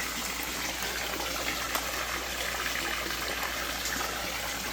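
Water runs steadily into a fish pond, a constant loud rushing and gushing close by with no pauses.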